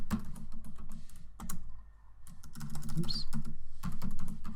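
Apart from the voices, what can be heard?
typing on a computer keyboard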